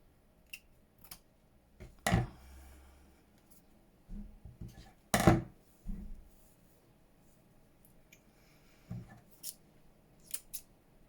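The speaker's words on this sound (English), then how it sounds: "Let's just cut myself a few strips up, so I can obviously cut round it." Scissors cutting paper strips for craft embellishments, a few distinct crisp snips spaced across several seconds with soft handling rustles between them, close and otherwise quiet.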